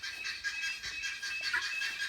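Baby guinea fowl keets calling for their mother, a rapid series of shrill, piercing peeps that repeat in quick pulses, close and fairly loud, with no talking.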